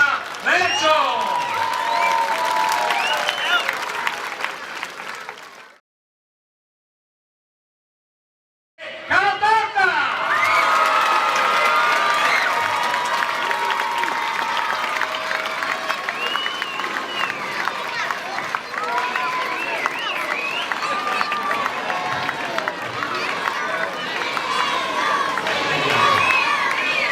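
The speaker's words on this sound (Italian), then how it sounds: "E un grande applauso al Marcaveggio!" An outdoor crowd at a team presentation for the Palio dei Mezzadri claps and cheers for the Marcaveggio team, a broad wash of applause and shouting beneath an amplified announcer, briefly cutting to silence before resuming.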